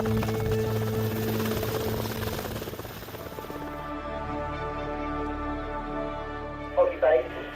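A rescue helicopter's rotors and turbine hum steadily in the background, a continuous droning whine under an ongoing voice, with a couple of brief louder bumps near the end.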